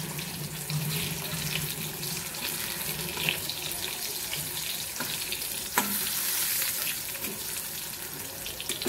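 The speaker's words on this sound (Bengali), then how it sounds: "এ দেখো পটল ভাজা চাপিয়ে দিয়েছি" Pointed gourd (potol) pieces fry in a pan with a steady, fairly loud sizzle and crackle, with a few sharp clinks of stirring.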